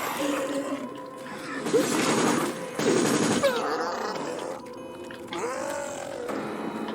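Machine gun fire from a 50-round magazine in Resident Evil: Operation Raccoon City, heard as dense bursts of automatic shots mixed with game effects and grunts, starting and stopping across the moment at close range.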